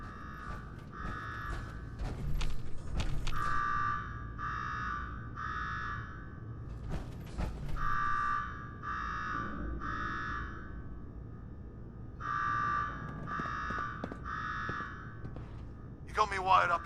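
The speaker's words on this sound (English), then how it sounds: "Now go shut off that damn alarm." An alarm blares in Fallout 4's Nuka-World, sounding in repeated bursts of harsh, pulsing buzzing tones with short gaps between them, loud and steady over low background rumble.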